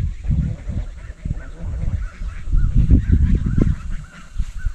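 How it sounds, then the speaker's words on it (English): Geese on a mountain garden farm honk repeatedly in close, loud bursts, a chattering flock calling back and forth. "My geese are still talking to us"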